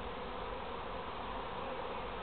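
A swarm of honey bees buzzing outdoors near a tree, a dense, continuous hum of many wings at steady loudness with no voices.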